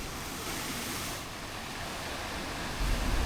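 Ocean surf churns at the Matara blow hole on Sri Lanka's southern coast, a steady broadband roar of waves and wind noise with a heavier low rumble building near the end, no voices.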